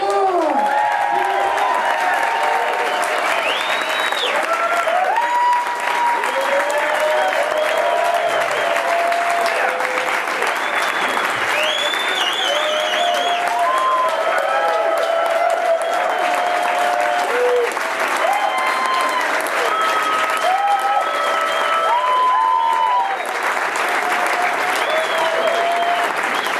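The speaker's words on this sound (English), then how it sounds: "give a big, warm Cinefamily round of applause to Cheech and Chong" Cinema audience applauding Cheech and Chong at the Cinefamily: dense, loud, continuous clapping from a packed house with cheers and whoops rising through it, sustained for the whole stretch.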